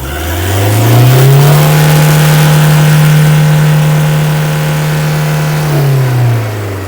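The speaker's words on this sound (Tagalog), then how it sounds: "Sige nga po, pakirevolusyon po." A car engine revs during a diagnostic check, climbing quickly to a loud, sustained high idle, holding for several seconds, then dropping back down near the end.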